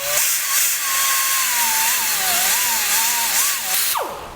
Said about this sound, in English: Just using a burr to go around the inside here.